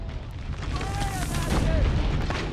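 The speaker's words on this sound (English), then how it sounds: "Aim to fire the turret." A turret in the Assassin's Creed Brotherhood video game fires, giving a loud, rumbling boom-like blast that holds for a couple of seconds, close and dense, with a whistling tone threaded through it.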